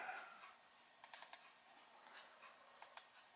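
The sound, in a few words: computer mouse double click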